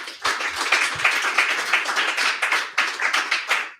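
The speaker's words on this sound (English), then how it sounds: "Let's give them a round of applause." An audience applauds its guests at a live event, a dense, steady burst of many hands clapping that stays fairly even for a few seconds, with no talk over it.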